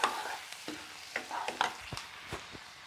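Turmeric is stirred into chilli potatoes in a pan, a soft sizzle under several irregular spatula scrapes and taps over a few seconds, close and fairly quiet.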